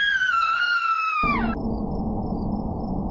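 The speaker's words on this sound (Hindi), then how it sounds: "तभी पोखर से अचानक एक आवाज आती है, स्त्री की चीख और फिर घुटती हुई आवाजें।" A woman's high, wavering scream from a pond breaks off abruptly into a low, rough rumbling, loud and close with no talking.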